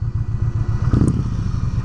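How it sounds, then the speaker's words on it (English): A 2023 Indian Challenger motorcycle engine brakes with a loud, close, steady throbbing rumble and a brief rising whine near the middle. "Like when you're engine braking on this bike, I don't know if you can hear that, but it's kind of like a little jet engine or something."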